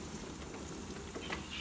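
Shortcut bacon sizzling on a hot barbecue grill plate outdoors, a steady soft crackling fry with faint spits and pops, heard alone at low level.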